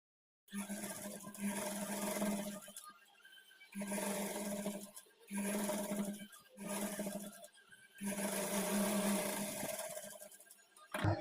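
A sewing machine stitches the lining onto a child's peplum blouse, whirring in four close bursts of a second or two each, separated by short pauses, with no talking.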